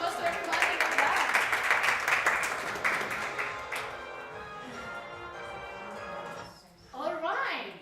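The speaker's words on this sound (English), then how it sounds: "Big round of applause to everybody." Classroom applause: children clap in a dense, steady patter for a few seconds before it fades, with a voice speaking over the end.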